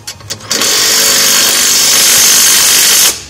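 A power tool runs in one steady, loud continuous burst for nearly three seconds, after a few short taps, while tightening the bolts of a winch mount on a Honda Rubicon KFI ATV.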